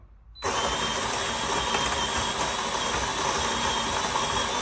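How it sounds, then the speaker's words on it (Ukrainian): A DeLonghi Dinamica coffee machine's built-in grinder grinds beans at its finest setting, starting abruptly after a brief quiet moment and then running as a steady, loud, close mechanical whir with no talk. "судя по тому, як працює кавомовка, все окей"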